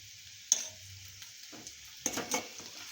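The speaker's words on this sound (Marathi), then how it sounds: "मी पनीर हे पलटून घेते चमच्याच्या साहाय्याने, फक्त थोडंसं शालो फ्राय करून घ्यायचंय।" Paneer pieces shallow frying in a pan as a spoon turns them, a steady soft sizzle broken by a few short scraping clatters of the spoon against the pan.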